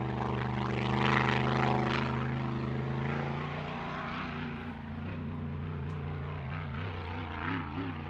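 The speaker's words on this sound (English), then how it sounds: "And you hear that supercharged alcohol engine sounding as a Grand Prix hydroplane should" Supercharged alcohol-fuelled engine of a Grand Prix hydroplane boat cruising, a steady loud droning roar with harmonic whine that shifts slightly in pitch, continuous throughout without talking.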